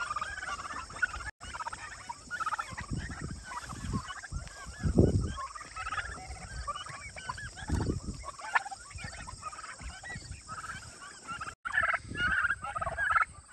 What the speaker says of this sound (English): Well, today we're free ranging the turkeys.